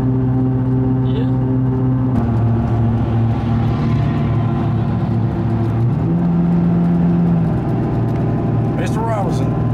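A Duramax-powered truck runs hard down the Bristol dragway during Friday testing at the 2017 Super Chevy Show. Its loud, sustained engine drone shifts pitch as it speeds along, with voices heard over the roar.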